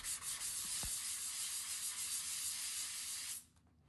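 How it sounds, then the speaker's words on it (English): Fine 320-grit sandpaper rubs steadily across a bathroom tile repair in one continuous close, loud hiss that stops abruptly near the end, with no talking. "to finish, sand it with 320 grit sandpaper"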